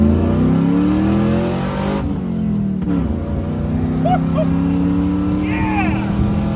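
An LS-swapped Jeep CJ-5 accelerates hard on the road toward 80, its V8 note climbing through the gears with a short dip at a shift. The engine drone stays loud and close throughout.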